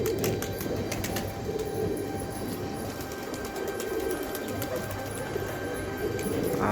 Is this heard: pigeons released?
yes